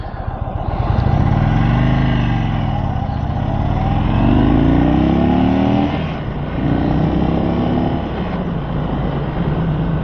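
A 2022 Indian Chief motorcycle engine revs up and settles repeatedly, loud and close, with rising and falling pitch sweeps over a deep rumbling idle.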